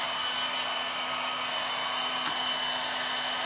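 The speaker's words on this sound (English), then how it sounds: "I'm controlling the amount of heat it's getting basically by how close I keep the heat gun" Heat gun blowing hot air onto protective rock film on a Corvette C7 car, a steady close airy whoosh with a faint tonal hum and no talk.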